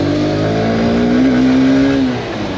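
A 2022 Honda Hornet 2.0 motorcycle accelerating, its engine revving loud and close with a rising tone that holds, then eases off toward the end.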